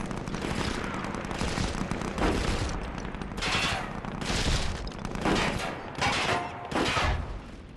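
Gunfire in the SOCOM 4 multiplayer beta, played with PlayStation Move: repeated loud bursts of automatic fire in clusters separated by short gaps, dense and continuous throughout.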